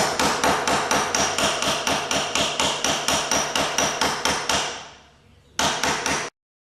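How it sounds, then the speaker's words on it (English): A drift is hammered to drive the shaft out of a John Deere 300 series snow blower gearbox: a rapid, even series of sharp metallic blows close by, a brief pause, then a few more strikes. "someone else does the hammering"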